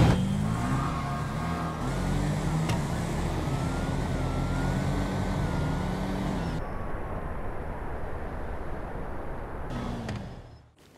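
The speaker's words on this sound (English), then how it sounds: "Detuned Camaro against Danny's Nova." Detuned Camaro and Nova drag racing in GTA V street outlaws big tire drags: steady, loud engine roar with rising revving tones throughout, cutting to a quieter passage mid-clip before fading out at the end.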